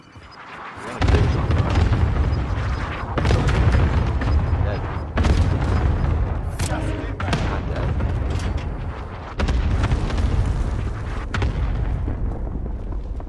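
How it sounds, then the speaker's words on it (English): Cluster strike explosions boom across a rooftop fight in Call of Duty Warzone, a run of heavy, close blasts arriving in bursts one after another, with deep rumbling tails that fill the gaps. "Allied cluster strike inbound."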